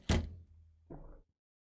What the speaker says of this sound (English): As I woke up, I heard a noise of a door opening.